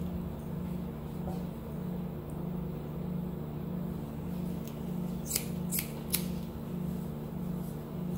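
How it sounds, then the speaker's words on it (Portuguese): Scissors snip hair held against a comb for vertical cutting, giving three quick crisp clicks in a row over a steady low background hum. "Aí eu pinço, seguro com o pente e corto na vertical."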